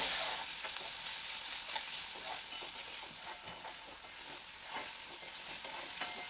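Tomato frying and softening in hot oil for a Malvani-style wet cashew curry, with steady close sizzling and repeated scraping stirs of a spatula throughout.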